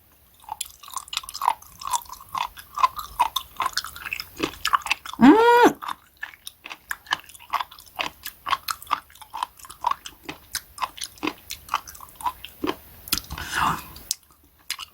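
Raw spoon worm (gaebul) is chewed up close in wet, rhythmic bites that run steadily throughout, with brief murmured speech and a short hum-like vocal rise partway through.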